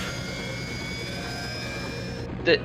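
Steady droning rotor and engine noise from a helicopter in the SimCopter video game, loud and continuous, with a brief sharp blip near the end.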